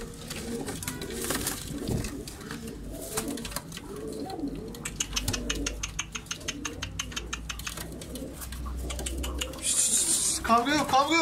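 Pigeons coo and call inside a pigeon shop in Kocaeli, a soft layered burble running under steady nearby talk, with occasional wing flaps and rustling.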